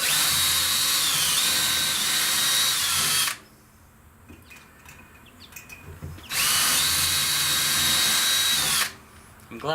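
A power drill whirs steadily in two long bursts, driving a screw into a pre-drilled hole at close range outdoors, with a quiet pause of faint sounds between.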